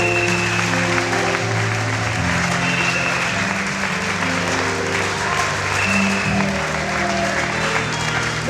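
Wedding guests applaud steadily throughout, a dense, continuous wash of clapping from a sizable crowd with some cheering and background music mixed in.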